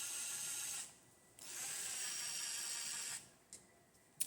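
Cordless power drill with a built-in light and two-speed adjustment, whirring in two short bursts of about one and two seconds, close but fairly quiet, with a few small clicks after it stops.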